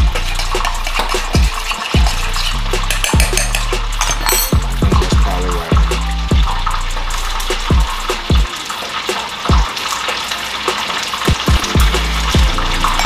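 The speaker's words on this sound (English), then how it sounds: "once you got your wings nice and golden, as you see right there" Chicken wings frying in hot oil for tequila lime wings, a loud continuous crackling sizzle with sharp pops and bursts throughout, close up and alone.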